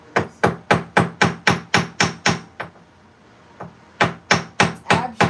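A hammer strikes a half-round sterling silver ring band in a fast, even series of sharp, loud metallic taps. The blows stop for about a second, then resume at the same pace.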